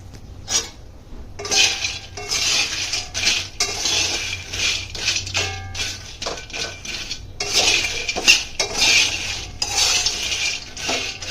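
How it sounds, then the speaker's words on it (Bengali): Peanuts are roasted in a pan and stirred, producing repeated scraping and rattling bursts of metal and nuts that come in irregular strokes, fairly loud and close. "বাদাম কি ভাজা হয়ে গেছে?"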